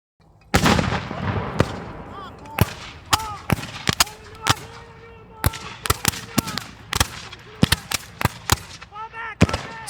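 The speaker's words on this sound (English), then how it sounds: "Lieutenant Marcellus Jones grabs Corporal Levi Schaefer's carbine and reportedly fires the first shot of Gettysburg." A rapid series of loud, sharp carbine-style gunshots fires in an uneven rhythm, each crack followed by a brief ringing decay, with a voice faintly present between the shots.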